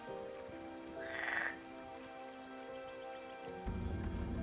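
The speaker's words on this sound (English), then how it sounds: "Doesn't look like I can catch the frog, though." A frog in the King's Quest video game croaks once in a short, faint burst over a soft, steady game backdrop, then a low tone starts near the end.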